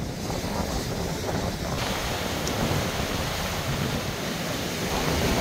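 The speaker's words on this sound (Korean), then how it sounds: "바람이 너무 세게 부는 관계로" Strong seaside wind roars across the microphone in a continuous, heavy rush with surf-like noise underneath, loud and unbroken with no talk.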